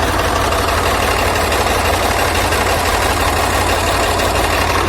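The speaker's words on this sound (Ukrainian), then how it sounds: "запустили двигун" A car engine idles loudly and steadily up close, a dense rumbling hum with constant knocking texture and no pauses, during a cooling system flush.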